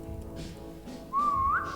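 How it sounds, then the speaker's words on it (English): A single short whistle from a character in a survival building game, rising and then holding a bright tone for about half a second over quiet ambient game sound. "Did I just whistle?"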